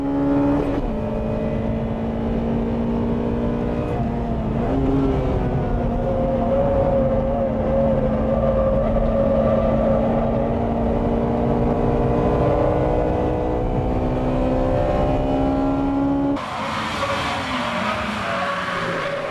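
Cars in a seven-lap circuit race, including a Mazda RX-7, produce a continuous high-revving engine drone whose pitch rises and falls with gear changes, loud and close, before an abrupt shift in the sound near the end; no talking.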